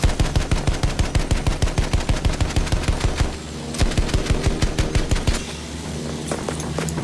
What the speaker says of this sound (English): Pom-pom guns over there!